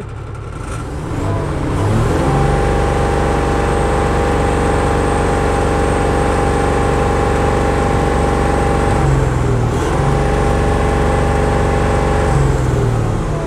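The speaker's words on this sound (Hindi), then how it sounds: "ये गाड़ी स्टार्ट हो गई।" A Tata 3718 BS4 truck's Cummins diesel engine catches and settles into a loud, steady low idle, with a brief dip and recovery in its drone partway through, close by with no talk.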